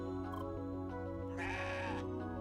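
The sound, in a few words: goats bleating in the video game CrossCode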